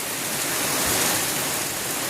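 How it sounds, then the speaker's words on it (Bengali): Heavy rain pours down at Tarapith, a dense, unbroken hiss of water hitting surfaces that stays loud and steady throughout. "দেখো কি পরিমাণে বৃষ্টি হচ্ছে"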